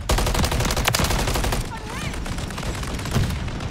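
Light machine gun fire in Modern Warfare 3 rattles out in sustained loud bursts, with dense rapid shots and booming impacts filling most of the stretch, over busy game action.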